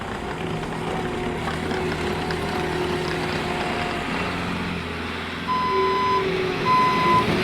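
A 2020 Bobcat T76 rubber-track skid steer loader drones steadily as its reversing alarm sounds a series of evenly spaced beeps, loudest in the last couple of seconds, with no speech.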